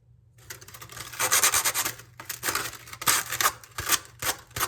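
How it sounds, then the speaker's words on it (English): A pipe's cut edge is scraped clean of burrs in short, rapid rasping strokes, close and fairly loud, with brief pauses between bursts and no talking. "clean up the burrs on here"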